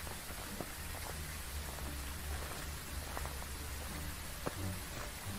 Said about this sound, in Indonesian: Dingin, hujan.